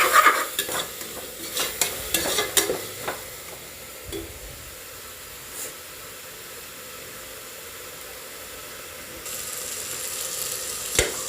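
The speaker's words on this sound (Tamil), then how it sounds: "பாருங்கள் இஞ்சி பூண்டு பேஸ்ட் எடுத்து வச்சுருக்கோம். அது போட்டுக்கலாம். நம்ம நல்லா அடி பிடிக்காத அளவுக்கு நல்லா கிளறிக்கலாம்." Ginger garlic paste is stirred in a frying pan while cooking fish biryani, a spoon scraping through a steady soft sizzle with busier clatter at the start, then quieter frying, no talk.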